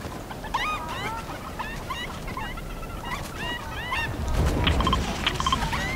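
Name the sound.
chickens clucking in Fortnite video game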